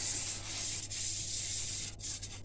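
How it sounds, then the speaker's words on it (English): Flour is scraped into a baking tin for no-yeast pizza dough, making a close, soft, continuous rasping rub with a couple of brief pauses. "I'm just going to scrape a slight bit of flour into it."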